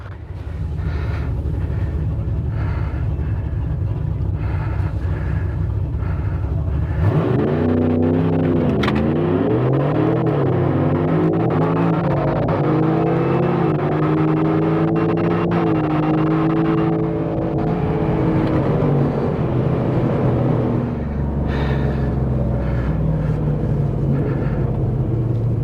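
A 2024 Ford F150 4x4 pickup with a supercharged 5.0L V8 accelerates hard on a track, its engine note rising steadily in pitch through long pulls with a brief shift, loud and close throughout with no talk.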